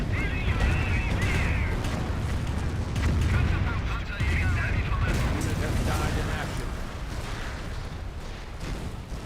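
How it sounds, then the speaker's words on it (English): A Calliope rocket barrage in Company of Heroes rumbles as a dense, sustained stream of booming launches and explosions with deep low rumble, loud and continuous throughout, with game battle noise underneath. "Calliope rocket barrage."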